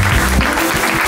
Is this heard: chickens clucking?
no